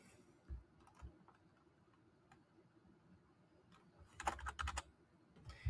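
Quiet computer keyboard typing while a title is entered for a whiteboard activity: sparse, soft key clicks, then a brief faster burst of keystrokes near the end.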